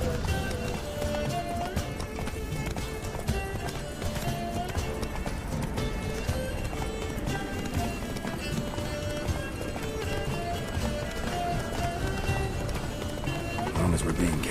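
Geralt's horse Roach gallops in The Witcher 3: Blood and Wine, a steady rapid clip-clop of hooves carried under a dense, continuous layer of game music and sound effects for the whole stretch.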